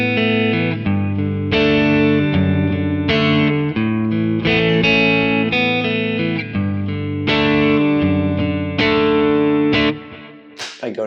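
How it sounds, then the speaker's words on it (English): HSS Strat-style electric guitar on the neck pickup through a clean Super Reverb amp model on a Quad Cortex, volumes on 4, playing a steady run of ringing chords, loud and close with no talking. "I'm using an HSS Strat style guitar"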